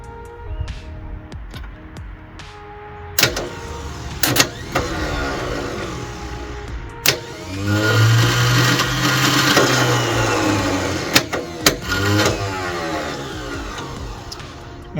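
The starter on a Ford 302 engine with an automatic transmission spins over in several bursts, producing a whirring, grinding crank with sharp clunks between attempts. It is close and loud, and no one speaks.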